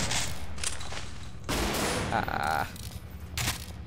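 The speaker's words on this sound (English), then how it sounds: "Shotgun." Shotgun blasts in the Half-Life 2 mod Underhell, several loud booming shots in quick succession with a short exclamation from a player.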